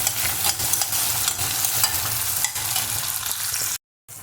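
Tomato and onion sizzle and are stirred in a pan for sundakkai kulambu, a steady close frying hiss broken by the scraping and clinking of a spoon. The sound cuts off briefly near the end.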